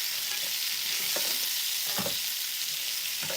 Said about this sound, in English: give them a toss. Because we do want to get as much of a blister on them as possible.